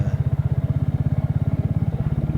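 A new Triumph Spitfire-style motorcycle engine pulls steadily while riding Cumbrian country lanes, its loud, close, rapid low firing pulses throbbing evenly throughout with no talk.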